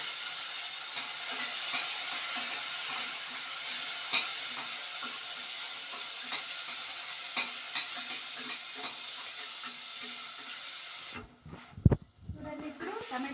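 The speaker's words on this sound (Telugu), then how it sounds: "కరివేపాకు వేసిన తర్వాత టమాటో వేసి దాన్ని బాగా మగ్గనివ్వాలి" Tomatoes and curry leaves fry in a pan for a black-eyed pea curry, a steady soft sizzle with occasional clicks of stirring, fairly close, ending in a few knocks and clatters.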